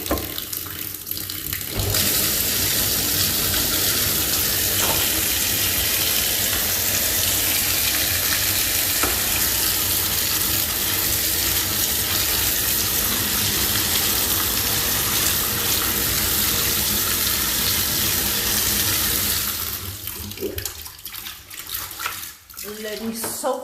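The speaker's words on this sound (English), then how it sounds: "I'm gonna fill the top with more water." A tap runs water steadily onto a plastic shower floor mat, a loud, constant splashing hiss that cuts off abruptly near the end, leaving brief handling clatter.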